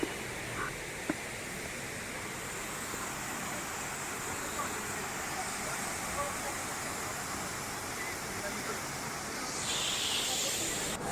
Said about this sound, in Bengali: আর সেই ঝর্ণার শব্দ কানে যেন সুর লাগছে